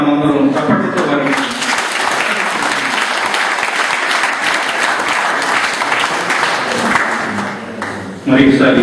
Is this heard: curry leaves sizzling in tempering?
no